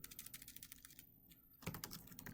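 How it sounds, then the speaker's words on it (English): Rapid typing on a computer keyboard, close and fairly quiet, with bursts of keystrokes, a short pause in the middle, then more clicking. "I'm going to type out something that says, I bought an item and"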